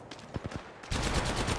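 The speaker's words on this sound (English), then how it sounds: "They're shooting at me." Gunfire in Apex Legends Mobile: a few separate shots, then a sudden loud burst of rapid automatic fire that keeps going steadily up close.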